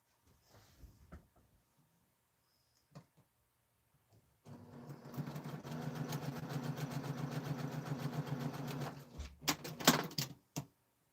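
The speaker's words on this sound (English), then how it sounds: "Lay them on top of each other like that, and sew the short end together." After quiet handling taps, a sewing machine runs steadily for about five seconds, stitching the short ends of fabric strips together, then ends with a few sharp clacks and bumps.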